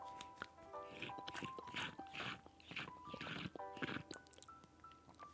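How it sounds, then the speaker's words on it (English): Wet slurping and sucking sounds in short repeated bursts, close up, as water is drawn from a water bottle. "If you heard those slurping noises, no you did not."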